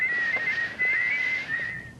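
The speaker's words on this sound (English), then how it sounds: "One thing about whistling, it's impossible to feel rotten while doing it." A man whistles a tune, one clear, sustained melodic line close to the listener, with a soft breathy texture and slight pitch wavering, over faint room noise.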